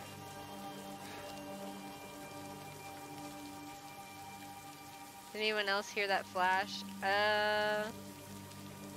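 Steady rain patters in the Blair Witch video game, a constant soft hiss over a low background hum. Midway a voice talks over it briefly.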